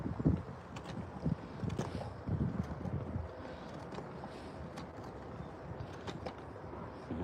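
Outdoor wind buffets and gusts with low rumbling bumps and scattered rustling, fairly faint and uneven over several seconds, without voices.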